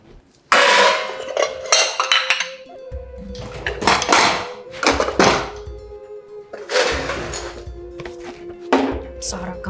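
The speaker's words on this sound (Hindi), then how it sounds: "ये बर्तन क्यों पटक रही हो?" Metal dishes being banged down in a home kitchen, several loud clattering thunks in irregular bursts with a steady tone between them, and voices in the background.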